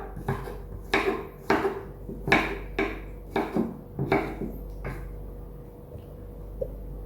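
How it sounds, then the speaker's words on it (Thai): A knife chops white fingerroot (krachai) coarsely on a board, about a dozen crisp, evenly paced cuts close to the mic, then a few seconds of quiet. "หั่นกระส่ายให้เป็นหยาบๆก่อนเดี๋ยวไปบดนะครับ"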